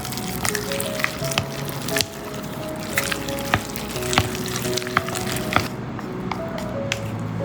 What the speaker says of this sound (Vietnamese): lấy cái phần nhân trong ngăn mát ra thì mình sẽ trộn lại khoảng 30 giây cho đều